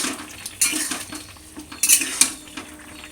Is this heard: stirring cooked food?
yes